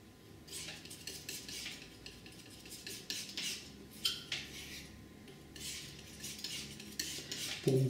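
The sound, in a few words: mixing paint with burnt sienna and magenta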